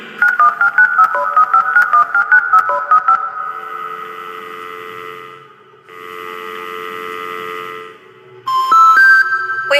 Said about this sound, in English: Your pal Rambly has the repairman on speed dial.